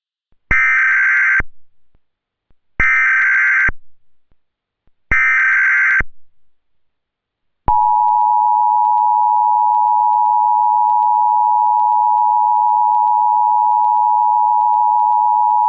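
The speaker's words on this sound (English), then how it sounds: "We have an EAS coming from our encoder" Emergency Alert System encoder tones: three short, loud bursts of harsh digital header chirps, then a long steady attention tone that holds unbroken to the end.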